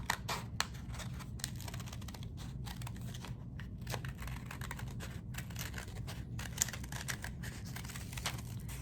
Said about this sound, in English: I'm actually going to cut around this and cut out